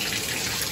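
Water pours steadily from a shower faucet during a leak test after the handle is fixed, a constant close hiss that runs the whole time with no speech.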